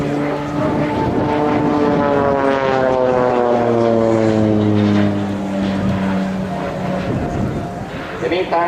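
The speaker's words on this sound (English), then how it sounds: "So here we come now with the last flyby of our soloist." A Swiss Air Force PC-7 propeller plane makes a solo flyby at the Kleine Brogel airshow in 2014, its engine drone rising loud as it nears and then sliding down in pitch as it passes and recedes, with voices in the background.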